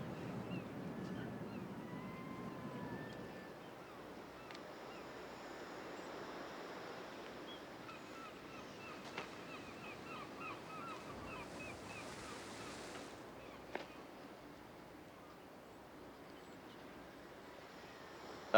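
Ocean surf washing onto a polluted beach, a soft continuous wash of waves with wind noise, fairly faint and steady, with no voices.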